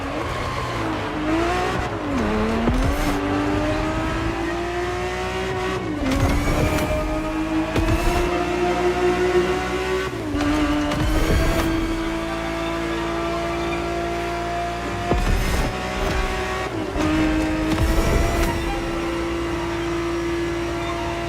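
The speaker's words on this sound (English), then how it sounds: "The Ferrari 365 GTB4 is the perfect vehicle for you to experience Ferrari racing as it felt back in the 70s" A vintage Ferrari 365 GTB4 from the 1970s races in The Crew Motorfest, its engine droning steadily and loudly, shifting pitch as it revs up and changes gear throughout, with brief bursts of harsher noise.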